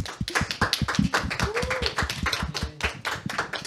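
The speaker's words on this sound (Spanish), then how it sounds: "Te despedimos con un fuerte aplauso" A small audience gives a round of applause, brisk uneven hand claps close by with a little murmuring underneath.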